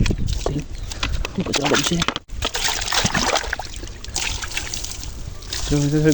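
Water splashing and trickling over a motorbike being washed after a repair, a steady wet spray running throughout with a brief break midway, while someone talks over it.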